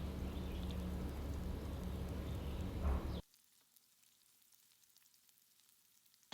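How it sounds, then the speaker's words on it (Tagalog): Yellow onions sautéing in a pan, a loud, steady sizzle for about three seconds that drops abruptly to near silence, with no talking. "So, gisa lang natin ito hanggang magiging translucent yung ating onion."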